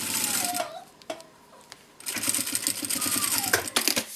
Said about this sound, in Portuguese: Costura.